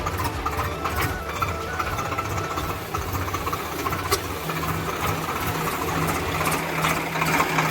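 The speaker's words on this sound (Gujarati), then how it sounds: "હવે એટલામાં આપણે એક રાઉન્ડ મારી લઈશું ટ્રેક્ટરનો" A Swaraj 735 tractor engine drones throughout with a low, rumbling idle and faint rattling vibration, continuous and fairly close, with no talking.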